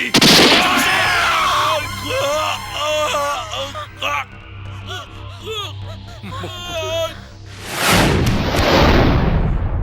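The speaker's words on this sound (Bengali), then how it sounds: "তাই বাধ্য হয়ে আমি গুলি করলাম" A burst of gunfire in a Bengali film scene erupts after shouting, with a loud crack followed by a sustained noisy roar lasting several seconds; frantic voices are heard before it.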